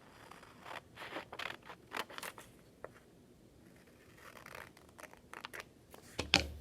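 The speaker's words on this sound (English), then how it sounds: "Then I'm going to go in and cut that line." Scissors cut through paper along a drawn line for a small paper house mock-up, giving quiet, close snips and scratchy slices in short bursts, with a sharper clack near the end.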